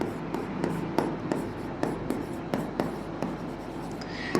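Chalk or marker strokes on a board during an accounting lesson form a rhythmic series of short scratches and taps, each a quick stroke, close and moderately loud. No voice is heard over them.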